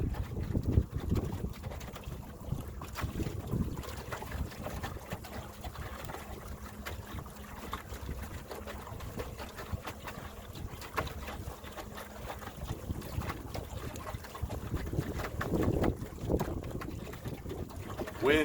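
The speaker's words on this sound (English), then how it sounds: "Wind keeps wanting to try to blow the front of the canoe that way" Steady wind gusting over an open canoe on the water at dusk, a continuous broadband rush with low buffeting on the microphone and occasional louder gusts throughout, with no talking.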